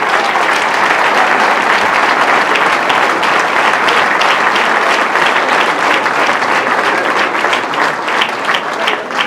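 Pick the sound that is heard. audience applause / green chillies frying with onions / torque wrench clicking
audience applause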